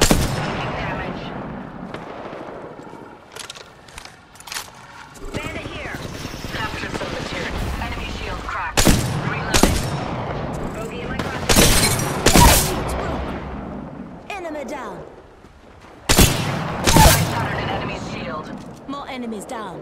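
Bursts of loud gunfire in a first-person shooter match in Apex Legends, sharp repeated shots with heavy blasts scattered across the stretch, alongside the background din of battle.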